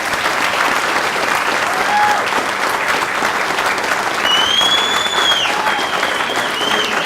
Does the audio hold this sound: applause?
yes